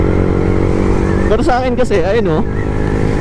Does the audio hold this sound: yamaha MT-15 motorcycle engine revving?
yes